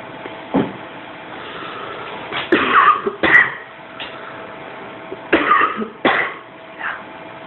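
Several harsh coughs and throat clears come in short bursts, close and fairly loud, with a low engine hum running underneath.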